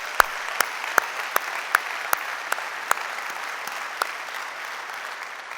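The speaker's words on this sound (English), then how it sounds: "Can we get one more round of applause for that awesome beginning?" Conference audience applauding at the Ingram Micro One event, a steady wash of many hands clapping in a large hall with a few sharp, loud claps standing out near the front.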